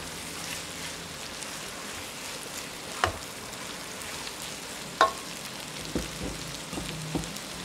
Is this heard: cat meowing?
no